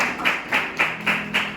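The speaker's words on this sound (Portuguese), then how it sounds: "salva de palmas não é para nosso mérito, mas para Deus" Church congregation clapping together in a steady rhythm, five evenly spaced loud claps heard close and alone, without talk.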